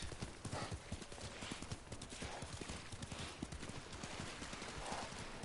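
Horse hooves clop in quick, steady rhythm while riding in the video game Ghost of Tsushima, a faint continuous gallop under a soft ambient background, with no voices.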